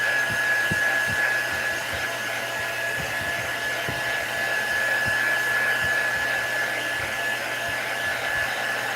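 A heat tool warms a glitter tumbler with a steady, close blowing hiss and a thin whine running throughout, with faint low knocks scattered underneath.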